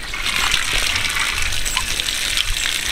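Water being poured out in a steady gushing rush, loud and close, continuous for a few seconds with no talking.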